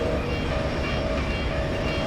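A tram in the F.E.A.R. 2: Project Origin video game rumbles loudly along rails with a dense, continuous low roar and intermittent faint tonal whines, steady and close throughout.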